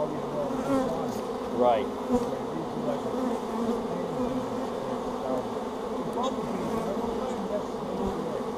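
Bees buzz steadily and continuously near a honey bee swarm, a close, dense hum that fills the scene with brief speech over it.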